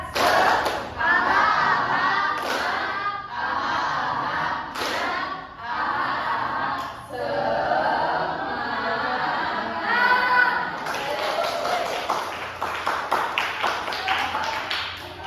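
A classroom of children performs the rhythmic "tepuk semangat" clapping routine, patterned bursts of hand claps mixed with chanted voices, lively and close throughout.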